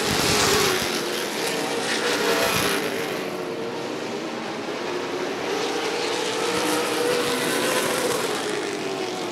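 Late model race cars roar around Rockford Speedway in a continuous loud engine drone, the pitch swelling and fading as the pack passes down the straightaway.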